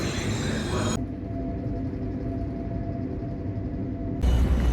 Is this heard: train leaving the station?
yes